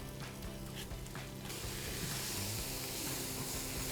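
Leek tipped into a pan on top of garlic already frying in hot oil, setting off a loud, steady sizzle that swells and holds as the leek lands.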